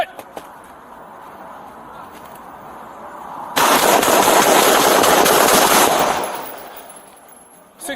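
Officers fire on an armed suspect at a gas station, a loud dense burst of rapid shots lasting a few seconds, standing out sharply from the quieter background.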